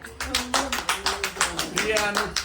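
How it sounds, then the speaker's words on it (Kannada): A group claps in quick, steady rhythm at a Ganesh Chaturthi celebration, the sharp claps fairly close and overlapping with voices and tonal sound underneath. "ಚಪ್ಪಾಳೆ."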